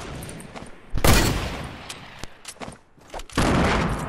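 Gunfire in the video game Fortnite: a loud burst of shots around one second in, scattered sharp single cracks after it, then a second heavy burst near the end, with no talking.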